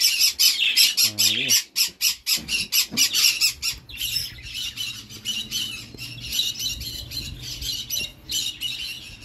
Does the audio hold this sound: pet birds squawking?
yes